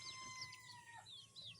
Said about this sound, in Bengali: তো তোমরা দেখতে পাচ্ছ এখানে কতগুলো মুরগি আছে